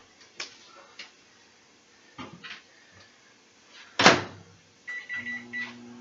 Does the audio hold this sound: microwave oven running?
yes